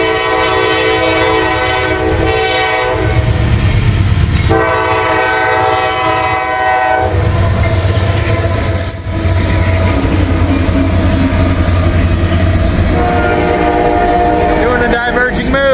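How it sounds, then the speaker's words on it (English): A Norfolk Southern freight train rumbles past up close, steady and loud, with horn blasts sounding over the rolling wheels and clanking cars. "Looks like we got another Norfolk Southern train"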